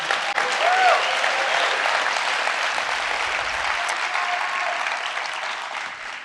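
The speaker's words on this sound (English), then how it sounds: "Let's clap that up because I need some energy." An audience at a talk claps all together in sustained, even applause that holds at a steady loud level for several seconds, with no voices over it.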